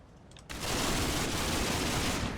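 Gunfire from troops in a church tower in the Combat Mission war game: a sudden, dense wall of continuous shooting that starts after a brief quiet moment and stays loud and sustained to the end.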